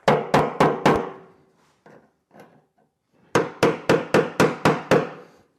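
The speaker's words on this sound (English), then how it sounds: "It's critical to use a body man's hammer for this." A body man's hammer strikes car metal on an Impala in sharp, loud, evenly spaced blows: a quick burst of four hits, a few softer taps, then a run of about eight steady strikes, with no talking.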